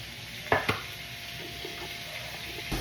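Chopped bacon sizzles as it browns in a pan, a steady soft frying hiss broken by a few quick clinks and stirring scrapes near the start and once more at the end.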